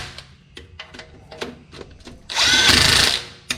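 A power tool runs in one sustained burst of about a second while crew cab latch assembly bolts are tightened to torque, preceded by scattered light clicks and taps.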